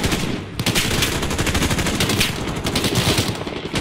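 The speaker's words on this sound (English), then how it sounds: "We're taking fire from the residence!" Dense automatic gunfire in a video game embassy siege mission, with loud, rapid bursts of shots from several weapons overlapping in a continuous fusillade that barely pauses once, near the start.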